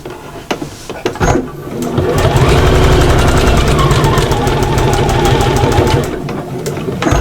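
A sewing machine stitches an appliqué mushroom-house cushion, running in a steady, loud, close whir with a rapid needle rhythm for several seconds after a few short starts, then slowing at the end.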